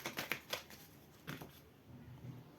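Tarot cards shuffled by hand before a reading: a few soft, quick riffling bursts followed by faint handling rustles, close and quiet, with no talk.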